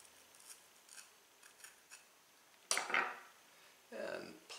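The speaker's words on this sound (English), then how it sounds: "So there's still some white rib in here, that membrane. So use a paring knife." A paring knife trims the white rib membrane from a pepper, producing a few short scraping and snipping cuts, soft and close, with quiet pauses in between.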